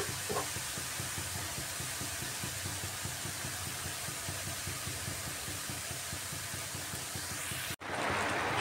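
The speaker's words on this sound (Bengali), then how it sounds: "এবার একটু সময় ফুটে উঠুক।" Cucumber curry with water for the broth simmering in a pan, a steady close sizzling bubble and hiss running evenly throughout, with a brief dropout near the end before the simmer resumes.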